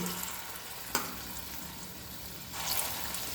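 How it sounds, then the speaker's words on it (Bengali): Small mung dal fritters frying in hot mustard oil in a kadai, a steady low sizzle and bubbling with a light tap and a swell of crackling near the end. "প্রথম ব্যাচের কয়েকটা বড়া ভাজার জন্য বসিয়ে দিয়েছি।"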